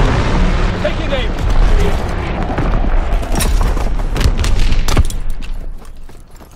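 Mortar strike explosions in Call of Duty WW2 land as deep booms and sharp blasts over a rumbling battlefield, with voices talking amid the barrage.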